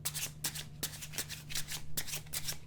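A deck of tarot cards being carefully shuffled by hand at close range, a steady series of riffling, rustling bursts over a low hum, with no talk.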